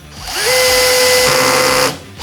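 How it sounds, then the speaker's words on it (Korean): A Stanley drill driver set to a low torque drives a screw into wood, a steady high whine rising as the motor spins up and holding for over a second before cutting off, close and loud with no talk. "드릴 드라이버로 토크를 한 3토크 정도 놓으면 어디까지 박히나 피스를 체결해 보도록 하겠습니다"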